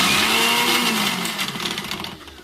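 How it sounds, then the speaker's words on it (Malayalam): A kitchen mixer grinder whirs briefly as it crushes shallots, grated coconut, turmeric and cumin for jackfruit thoran, a loud close motor whine that fades and sputters out within a few seconds. "അത് മിക്സിയിലിട്ടൊന്ന് നമുക്കൊന്ന് ജസ്റ്റ് ഒന്ന് ചതച്ചെടുക്കാം"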